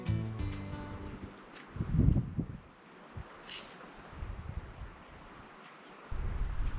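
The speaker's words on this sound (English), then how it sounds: "It was a little breezy atop the cliff edge, but the views were spectacular. You have to expect some wind when you are in the desert." Wind blowing across a desert cliff edge near Moab, a low rumbling gust that buffets the microphone, surging loudly early on, easing to a steady rush and swelling again at the end, with no voices.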